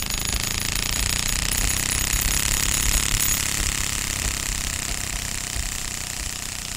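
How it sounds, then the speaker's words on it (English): A playing card clipped to a bicycle with a clothes pin flaps rapidly against the spinning spokes, making a loud continuous motor-like buzzing rattle. "as you really ramp up that card that's in the clothing pin, it makes almost sound like a lawnmower"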